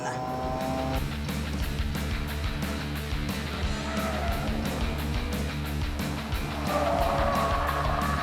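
A Mazda driven hard on a timed lap, engine roaring steadily with tires squealing and skidding through corners, loud and continuous throughout with a rising pitch near the end.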